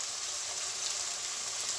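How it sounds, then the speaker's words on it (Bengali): Onion and garlic frying in a pan for a chicken and vegetable keema, a short steady hiss of sizzling that is close and constant with no other sounds. "আমার পেঁয়াজটা একটু ভেজে আসছে, এবার আমি এক চামচ রসুনটা দিয়েছি"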